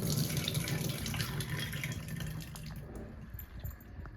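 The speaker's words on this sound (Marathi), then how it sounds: "तर आता आपण ह्या डाळीमधलं पाणी काढून घेऊ।" Water pours off soaked lentils as they are drained in a home kitchen, giving a close, continuous trickling splash that slowly thins toward the end.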